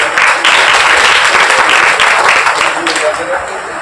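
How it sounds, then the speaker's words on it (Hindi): Loud, dense applause from the audience at a social workers' council event distributing free stationery to students, continuous clapping close and full throughout with crowd noise beneath. "जोरदार तालियां बजाएं"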